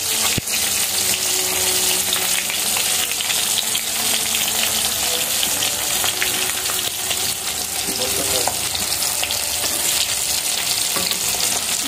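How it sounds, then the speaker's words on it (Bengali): Hilsa fish fry in hot oil with a loud, continuous crackling sizzle that stays even throughout, close and unbroken, with no voices. "এখন মাছ ভাজছি, ইলিশ মাছ ভাজা হচ্ছে"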